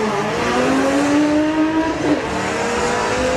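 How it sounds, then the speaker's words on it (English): A VW Corrado drag car launches at Santa Pod's Bug Jam, its front wheels scrambling for grip. The engine roars loud and close, climbing steadily in pitch, then breaks off near the end. "Corrado snaking around a little bit as the front wheels are scrambling for grip."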